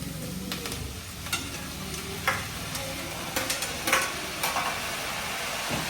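Tomatoes cooking with roasted onions in a hot pan, a constant close sizzle broken by scattered stirring scrapes and small ticks from the utensil, with no voices.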